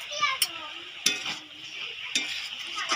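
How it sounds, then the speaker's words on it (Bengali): Village-style Bengali chikni shak chorchori stirred in an uncovered pan: a soft, steady sizzle with three or four distinct scraping strokes of a spoon, fairly quiet and close. "তো ঢাকনাটা খুলে আর একবার নেড়ে নেব এটাকে।"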